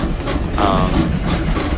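The Stephenson Rocket steam locomotive in the Train Sim game, running on historic Southern England track, a loud, steady rumbling roll with rhythmic rail clatter over a couple of seconds, with no talking.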